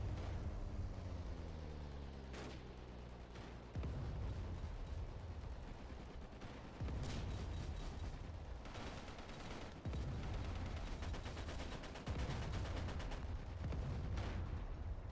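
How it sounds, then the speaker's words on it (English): Dense, loud barrage of explosions and rapid gunfire in the WWII Online video game, booming blasts layered over continuous shots, with no voices. "just listen to the amount of explosions and gunfire and aircraft and all this stuff"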